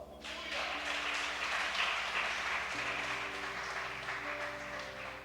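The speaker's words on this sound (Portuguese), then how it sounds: "Você pode dar uma salva de palmas?" A congregation claps steadily through a church service during a revival campaign night, with sustained music playing beneath the dense, even applause.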